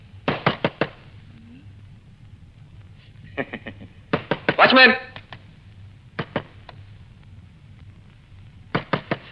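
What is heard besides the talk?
knocking on a door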